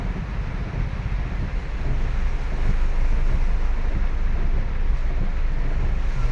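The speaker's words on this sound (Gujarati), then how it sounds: "બહુ બધી ગાડીઓ જાય છે પાણીમાં." Cars in a line at a signal, including an XUV 700, a Brezza and a Creta, pushing through a flooded street in Surat with tyres half submerged, heard as a steady rushing wash of water and engine rumble that swells midway, with no talk.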